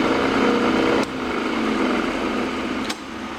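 A drill bores a 5/16 tap-size hole about three-quarters of the way into a compound vise handle part, giving a steady, loud mechanical whir with a brief sharp shift partway through and a slight change in tone near the end.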